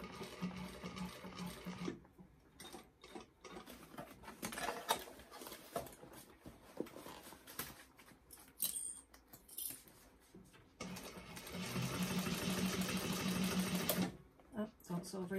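Sewing machine stitching a Chloe bag, with bursts of rapid mechanical stitching broken by pauses and a voice talking over much of it.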